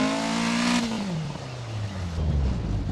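A rally car engine in the racing game DiRT Rally revs high, then its pitch slides steadily downward as it idles back, a loud close synthetic engine drone with no talk.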